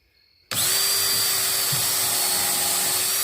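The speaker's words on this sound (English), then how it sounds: "You do want to come up about halfway through when you're drilling to kind of let the extra sawdust out here." A power drill fitted with a Stanley countersink bit starts abruptly and spins at a steady high-pitched whine while boring into wood for a rabbit hutch, loud, close and continuous, with no talking.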